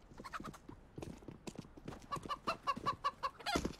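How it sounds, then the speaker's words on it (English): A chicken clucking in the video game CS:GO, a string of short, quick clucks with hoof-like clip-clop taps, fairly faint, building into a louder burst of clucking near the end, with no talk over it. "There is a chicken."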